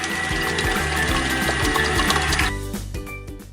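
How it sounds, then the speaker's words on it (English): A stand mixer whipping twelve eggs at high speed for sponge cake, a loud, steady motor whir close by that cuts off near the end. "adding 12 eggs to our stand mixer at high speed for 5 minutes"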